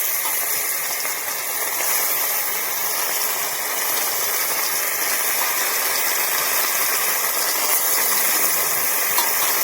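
Fish frying in hot oil, a dense, steady broadband hiss and crackle that holds at the same level throughout without a break.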